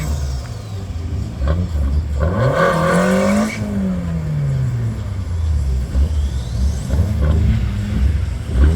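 A rear-wheel-drive Toyota Corolla race car revs hard at the start line and launches. The loud engine note rises and falls through gear changes over a constant rumble of crowd and other engines.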